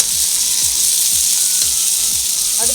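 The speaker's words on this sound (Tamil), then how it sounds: "ஒரு தக்காளி கட் பண்ணி வச்சுருக்கேன் அந்த தக்காளி போடுறேன்" Chopped tomato frying in a pan for a peas and potato masala, a loud steady hiss of hot oil with a repeating low clicking rhythm from stirring, close and continuous.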